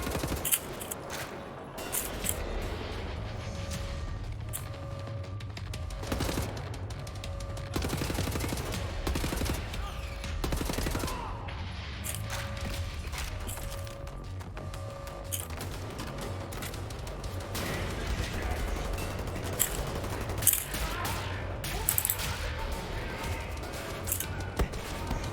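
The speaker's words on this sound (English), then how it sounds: "I really like the just default machine gun." The default machine gun in Wolfenstein: The New Order fires in repeated rapid bursts over a continuous rumbling game backdrop, with sharp cracks throughout and occasional heavier impacts.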